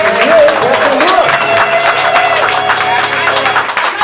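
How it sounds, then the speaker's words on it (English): Live audience at a ComedySportz improv comedy show clapping and cheering for Captain Brooke, a dense, loud wave of applause that fills the whole stretch with scattered whoops. "Let's get a big applause for Captain Brooke."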